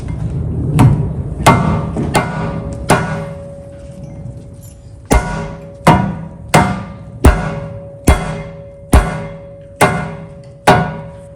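A rubber hammer strikes the brake rotor on a 2018-2020 Honda Accord, about fourteen loud metallic blows close up. Each rings briefly, and they come in a series of uneven, roughly regular strikes with a pause partway through.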